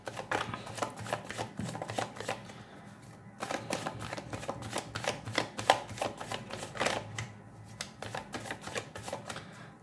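Tarot deck shuffled by hand: rapid, continuous papery flicks and riffling snaps in dense rhythmic runs, close and clear over a faint room hum, with no speech.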